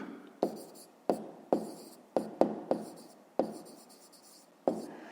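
A pen scratches numbers onto paper in about eight short, sharp strokes, each a crisp tap followed by a brief scratching trail, close and distinct in an otherwise quiet room.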